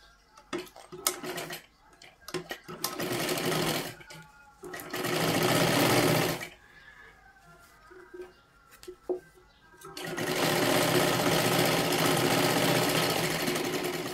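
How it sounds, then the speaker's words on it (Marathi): A sewing machine runs in several long bursts separated by pauses, stitching a princess-cut blouse in size 37; between runs there are soft ticks and handling noises, and a voice speaks quietly in the gaps. "आता आतल्या बाजूने पलटी करून आपल्याला परत एकदा शिलाई करून घ्यायची आहे पूर्ण."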